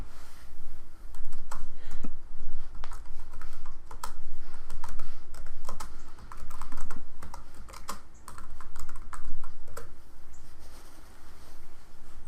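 Steady typing on a computer keyboard while editing a comment in an Excel spreadsheet, with close, irregular key clicks running continuously and no talk.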